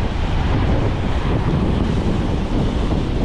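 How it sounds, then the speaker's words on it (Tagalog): Large ocean waves surge and crash under strong gusting wind at a shore, a loud, steady roar of surf and wind buffeting throughout with no break. "La, grabe, ang laki ng alon."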